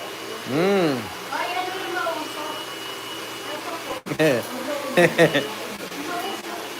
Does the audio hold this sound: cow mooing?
no